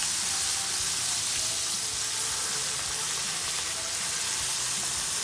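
Crawfish sizzling in butter on a 22-inch Blackstone griddle, a bright, constant frying hiss with small crackles, steady and close with no talk.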